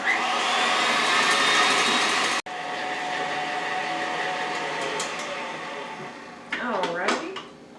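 Melted butter being mixed into eggs and sour cream in a bowl, a steady, loud whirring drone that runs throughout, with a brief break near the start and a short burst of voice near the end.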